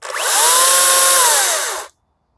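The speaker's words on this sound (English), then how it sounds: "The only sound you're hearing is the spinning of the blade itself." A loud, steady electric whine of a Makita XCU03 cordless chainsaw blade spinning, rising quickly and holding for about two seconds before cutting off abruptly into silence.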